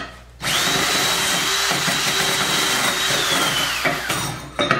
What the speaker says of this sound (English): clean the part a little bit with the brush